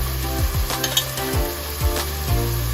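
A pot of curried pig's tail simmers and sizzles close by, a steady crackling bed punctuated by occasional soft knocks and stirring sounds.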